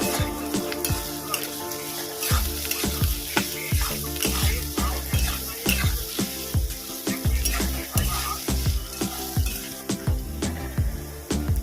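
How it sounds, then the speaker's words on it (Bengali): Chopped onion fries lightly in a pan of hot oil with black cumin, a close sizzle broken by repeated rhythmic scraping and stirring strokes against the pan, steady for the whole stretch. "কুচানো পেঁয়াজ দিয়ে হালকা করে ভেজে নেবো"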